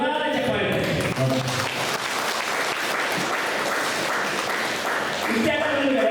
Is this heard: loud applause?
yes